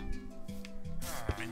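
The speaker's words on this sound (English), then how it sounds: "you'll start getting cats everywhere" Minecraft cats meow repeatedly in a blocky game world, several overlapping mews at moderate volume under a person talking.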